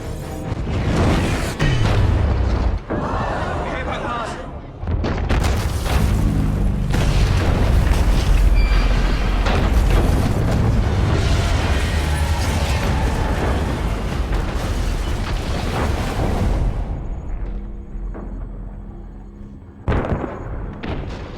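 A massive orbital kinetic rod strike erupts in a long, loud series of deep booms and rumbling explosions, roaring for most of the stretch before fading into a few last bursts near the end.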